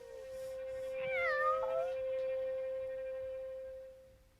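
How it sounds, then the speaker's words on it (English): A house cat meows once, rising and falling over about a second. It sounds faint and slightly distant, over a steady electronic hum that continues after the meow. "Oh god, my cat."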